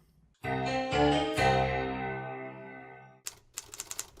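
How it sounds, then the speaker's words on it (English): A typewriter in a video game: a sustained, ringing tone gives way to a quick run of sharp mechanical key clacks near the end. "I task Nicolio with typing up his copious notes"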